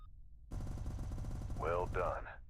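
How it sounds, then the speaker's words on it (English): Turret weapons in the space combat game Spacebourne 2 fire a rapid, loud burst of shots in a fast rhythmic stream lasting about two seconds, with a short synthetic tone at the end. "Now, activate your turret weapon group and fire away."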